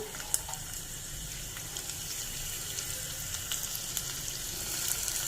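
Chopped garlic sizzling in mustard oil in a small tadka pan, a faint steady frying hiss with occasional light crackles.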